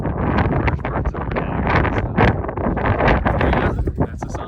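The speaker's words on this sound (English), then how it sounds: "So as you can tell, it's a little windy up there." Strong wind roaring across a mountain summit, buffeting the microphone in continuous loud gusts with no speech.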